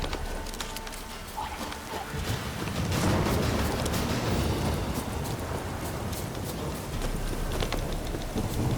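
Rain in The Witcher 3 drums down as a dense, continuous hiss that swells louder after the first couple of seconds, with faint thumps and clatter beneath.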